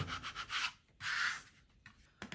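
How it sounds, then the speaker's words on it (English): A small scraper smoothing vinyl onto a tumbler: faint, close rubbing strokes, a few short scrapes followed by a longer pass and softer brushing, quiet and alone. "we're going to use our little scraper, make sure we get a really good seal on to our vinyl there"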